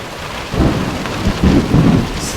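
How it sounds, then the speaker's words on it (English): A loud wilderness thunderstorm in Canada, with heavy rain pounding down and gusting wind, while low thunder rumbles roll through in several swells and a constant wash of rain underneath. "It's thunder and lightning out there."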